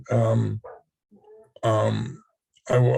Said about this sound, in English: We have a lot of dogs around here, so if you start hearing dogs bark, you know what's going on.